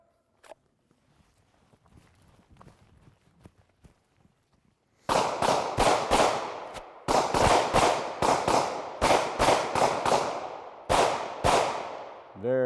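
Handgun shots crack out during a shooting drill, starting after a quiet stretch of faint shuffling and then coming as loud, close reports in quick pairs and groups of two to three, sustained over several seconds without speech.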